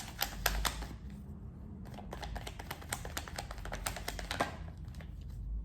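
A deck of tarot cards being cut by hand gives a close, steady run of crisp paper flicks and light taps over a low background hum, with no talking.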